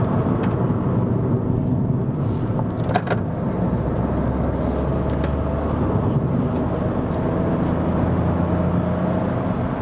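A Kia Picanto city car accelerates along curvy hill streets, its small engine giving a steady, close droning rumble with road noise throughout, alone and without talk.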